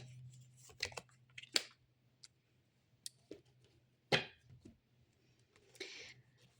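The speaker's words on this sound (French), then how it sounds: "Je retire encore une carte" Tarot cards drawn and shuffled from a deck give scattered soft rustles, slides and small clicks, close and fairly quiet, with no one talking.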